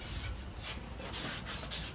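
Steady soft rubbing as a wooden pine knot handle on a Bowie knife is smoothed by hand with fine abrasive, a close, continuous scraping with gentle pulsing strokes and no talk.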